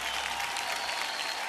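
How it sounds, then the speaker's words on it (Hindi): Dense, steady applause from a studio audience on the Kaun Banega Crorepati game show, filling the short stretch evenly without breaks. "जनता से अनुरोध है कि जोरदार तालियां बजती रहें"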